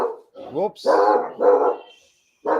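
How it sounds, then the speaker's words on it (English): A pet dog barks several times close by, short loud woofs with whimpery yips between them, during an online sports-tech news show; someone briefly speaks over it. "That is my dog."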